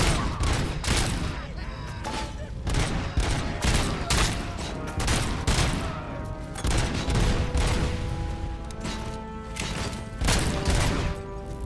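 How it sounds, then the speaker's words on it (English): Gunfire in RoboCop Rogue City, a weapon firing in bursts rather than single shots, loud and dense, with rapid cracks and booms repeating throughout. "And it does shoot like a burst."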